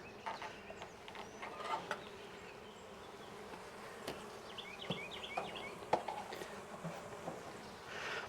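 Honeybees drone steadily around an opened hive during an inspection, a close continuous buzz with a few sharp knocks and clicks of hive parts scattered throughout.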